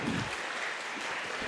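A school audience applauding vice-president candidates at a student election debate, a dense steady burst of clapping from many hands.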